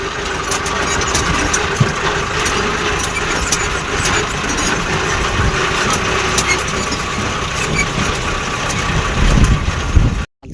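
A tractor engine runs steadily and loudly throughout with a constant rumbling drone, then cuts off abruptly at the very end.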